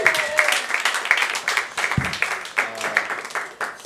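A comedy club audience applauds and claps for comedian Ethan Marsh at the Comedy Studio, a steady, lively round of close clapping with some cheering voices mixed in throughout.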